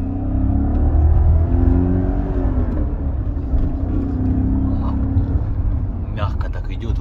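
A 1990s BMW M5 E39 engine rumbles and revs steadily close by, with people talking over it throughout and a few sharp clicks near the end.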